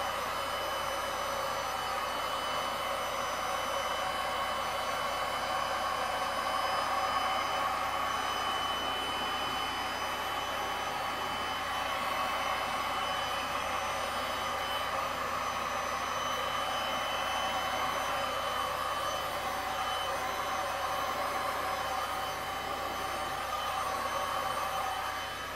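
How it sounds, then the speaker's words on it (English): Heat gun blowing hot air over a resin geode made with alcohol inks, a steady whooshing hiss held evenly throughout with no talking. "you can also move the lines a little bit with the heat gun to blur them like that."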